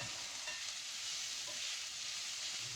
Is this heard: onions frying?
yes